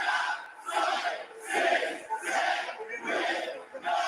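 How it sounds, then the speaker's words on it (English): A wrestling crowd at an AEW Rampage show in Quebec City chants a count in French, with loud rhythmic rising shouts roughly every half second to second and noisy crowd chatter between them. "The crowd is chanting to 10 in French"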